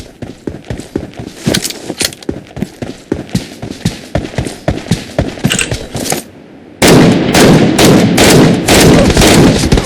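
Gunfire from the video game PUBG: loud, rapid bursts of close shots in an uneven rhythm, a brief gap, then a dense sustained volley of heavy automatic fire.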